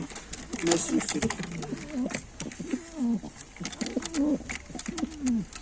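A pigeon coos repeatedly, a series of low, throaty rolling coos in a steady rhythm, close by, with light clicks and rustles around it, in a pigeon loft.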